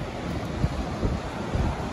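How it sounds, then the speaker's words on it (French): Gusting wind at the seaside buffets the microphone, a loud continuous roar with low rumbling bursts and surf-like wash in the background. "pour le moment il y a un peu de vent"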